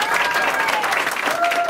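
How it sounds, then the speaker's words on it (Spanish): An audience at a Hebrew-Spanish poetry recital gives a strong round of applause, loud, dense clapping filling the room while voices carry over it. "Un fuerte aplauso para todos."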